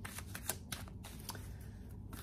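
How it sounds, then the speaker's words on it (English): Tarot cards slide and slap softly onto a surface in several quick, close flicks and rustles over a low background hum, with no talking. "let's lay out some cards here"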